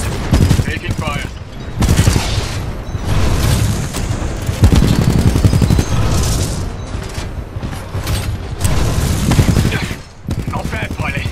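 Gunfire in Titanfall 2 campaign combat: dense, loud bursts of automatic fire and booming impacts run nearly continuously, with brief lulls, alongside game voices and battle noise.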